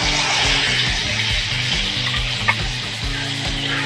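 Boiled-and-ground spice paste hisses as it goes into a hot pan for a milk chicken curry, a steady loud sizzle with a brief stirring clink, over a rhythmic background music loop.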